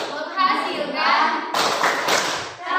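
A classroom of students claps along to a rhythmic clap chant in a crafts lesson, loud close clapping blended with children's voices chanting together.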